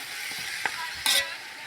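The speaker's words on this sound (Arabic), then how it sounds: "ننزل عليهم الفريكة، نحمصها شوي مع السمنة واللحمة" Freekeh toasts in a pot with ghee, oil and meat, giving a steady soft sizzle with a couple of brief scrapes and clinks of a stirring spoon, close and low in level, with no voices.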